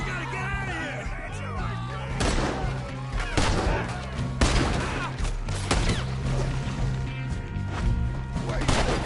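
Gunfire erupts in the video game Red Dead Redemption 2: sharp close shots crack in irregular bursts over a loud, busy scene, with shouting voices and faint music beneath.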